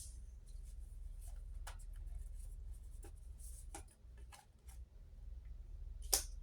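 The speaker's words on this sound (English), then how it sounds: "Let me pull 2 more cards for the middle." Tarot cards being pulled from a deck: a scattering of soft, short papery slides and taps, close and quiet over a low steady hum, with a sharper snap near the end.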